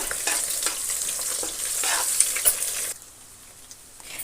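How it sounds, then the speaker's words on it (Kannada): Turmeric frying in hot oil for egg rice makes a bright, loud, close sizzle with stirring scrapes. It runs for about three seconds, then drops to a faint low hiss, with no voices. "ಇದನ್ನ ಈಗ ಚೆನ್ನಾಗಿ ಎಣ್ಣೆ ಸ್ವಲ್ಪ ಬಾಡಿಸೋಣ"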